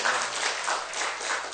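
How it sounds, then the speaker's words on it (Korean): A church congregation at a Korean Wednesday worship service gives brief, steady applause, a short wash of clapping that carries on evenly for about a second and a half. "박수로."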